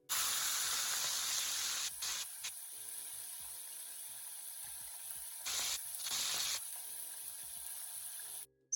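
A loud, steady sizzle of fish frying in hot oil in a frying pan, Jamaican style, with a few brief surges and dips as the fish is moved, ending abruptly.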